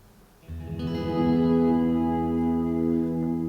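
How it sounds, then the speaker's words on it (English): Electric guitar with a reverb pedal cranked up blooms from a soft onset into a sustained ambient swell, chords ringing and washing out with long lingering tail, moderately quiet and alone. "I'm going to turn the pedal, the reverb right up"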